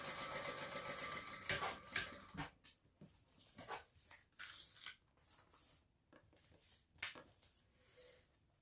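A sewing machine top stitches a Rayna Sling bag in short bursts of mechanical whirring, loudest in the opening seconds and then coming in brief intermittent runs.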